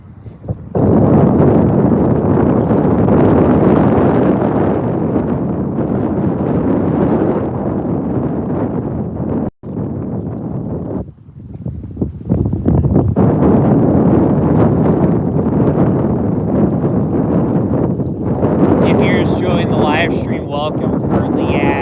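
Wind gusts roar across a microphone beside a park pond in Kettering, Ohio, on a February walk, a loud, continuous rumble with one brief dropout midway and faint clicks near the end.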